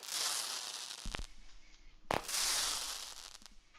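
A consumer firework cake fires outdoors, with loud hissing, crackling bursts and two sharp, booming shots standing out, the noise roughly continuous throughout.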